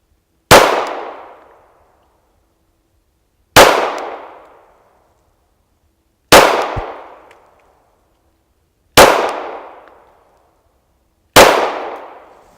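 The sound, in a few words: Glock 43 pistol shots ringing on steel plates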